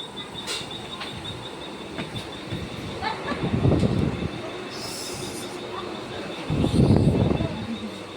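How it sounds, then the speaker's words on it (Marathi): Rumbling train noise with swelling low roars and faint squeals, heard from inside a carriage, with occasional clatter. "आम्ही आता चढत आहोत ट्रेनमध्ये"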